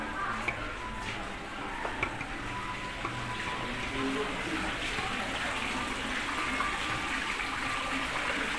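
A waterfall at a church grounds with a Virgin Mary statue above rushes in a continuous, fairly close roar, with a few faint knocks and voices mixed into the steady wash.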